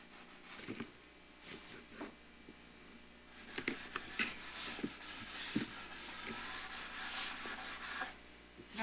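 A luthier hand-sands wood with 400 grit sandpaper, producing soft, close scratchy rubbing strokes in short irregular bursts that turn into denser, more continuous rubbing in the second half.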